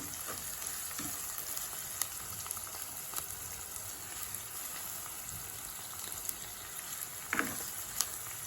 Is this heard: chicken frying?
yes